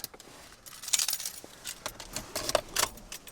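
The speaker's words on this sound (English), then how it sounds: "Just need my keys first." Keys jangle in a few bright, scattered metallic bursts before a trip to an airgun range, fairly close and moderately quiet, with no talking.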